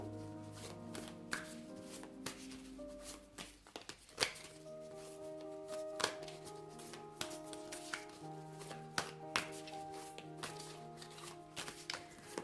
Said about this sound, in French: je vais mélanger l'oracle